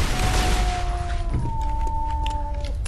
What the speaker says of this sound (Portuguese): Akimbo de pistola com munição infinita.